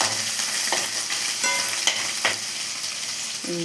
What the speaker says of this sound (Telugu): అల్లం పేస్ట్ ఒకటి వేస్తే చాలు అది కొంచెం వేగుతుంది కదా